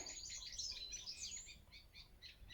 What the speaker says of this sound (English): I may just let the birdsong do the soundtrack partly to this video this morning